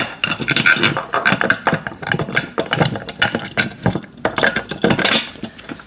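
Close metallic clinks, taps and scraping as a washer and nut are fitted and tightened on a VEVOR pec deck and rear delt home gym machine, in irregular bursts with no talking.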